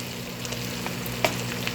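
Cabbage and tomato sautéing in a pan, a steady close sizzle with faint stirring clicks and one brief louder scrape, no voices.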